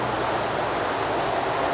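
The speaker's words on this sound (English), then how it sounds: "I apologise for the noise from the wind and the trucks" Steady wind roar beside a river running through farmland, with passing trucks on a nearby road: a constant rushing broadband noise, loud and close, with no talking and no distinct breaks.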